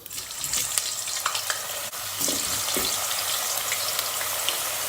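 Potatoes frying in moderately hot oil in a pot, giving a steady, continuous sizzle with light crackles throughout, close and fairly loud, with no talking.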